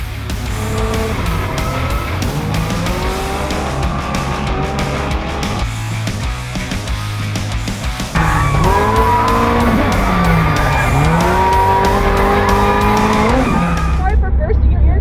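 Loud, continuous engine roar with rising and falling revs and high-pitched tire squealing throughout, as a drift car slides close by on a racetrack in Arizona.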